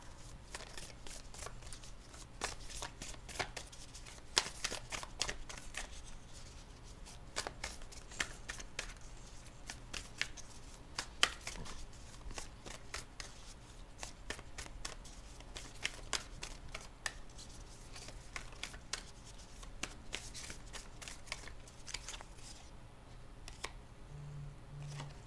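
Moonology oracle cards shuffled steadily by hand at close range, a continuous papery riffling and flicking with frequent sharp card snaps, and no talking over it.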